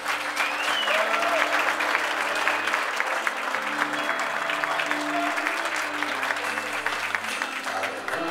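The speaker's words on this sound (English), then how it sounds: "Let's give them both a nice round of applause." Sustained audience applause at a quinceañera party, dense clapping from a crowd filling the room throughout, with music playing faintly underneath.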